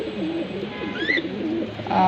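Light-colored racing pigeons coo softly and steadily up close, with a brief higher chirp partway through.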